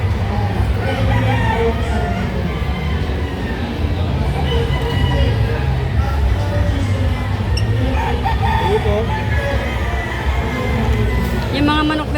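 Roosters crow repeatedly amid a busy, noisy crowd at a hobby expo in Clark, with people talking throughout; the calls are partly buried in the constant chatter.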